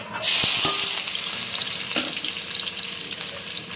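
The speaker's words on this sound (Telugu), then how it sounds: "ఇదిగోండి ఆయిల్ కాగింది, అందులో ఆనియన్స్ వేసేసుకోండి." Sliced onions hitting hot oil in a pan for a curry, a sudden loud burst of sizzling that settles into a steady crackling fry, with a couple of faint clinks early on.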